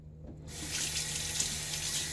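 Tap water starts running into a sink for rinsing between shaving passes, a steady close splashing flow after a brief quiet moment.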